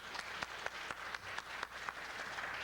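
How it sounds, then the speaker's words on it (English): Audience members at a security conference clap, fairly faint and somewhat sparse, with individual claps standing out over a soft wash of applause. "And I want you to give this guy a round of applause."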